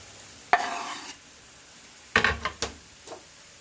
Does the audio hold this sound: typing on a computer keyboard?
no